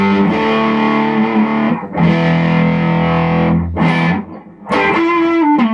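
Heavily distorted electric guitar through a VHT 6-watt tube amp, played loud with sustained crunchy chords in three bursts separated by brief gaps, with no voice over it.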